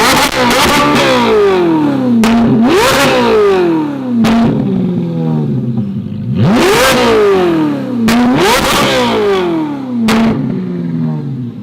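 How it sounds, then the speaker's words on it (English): Ferrari fitted with a one-off custom F1-style exhaust, revving hard through repeated rising engine sweeps with sharp shifts and crackles, loud and close, no voices. "Sounds like an F1 car."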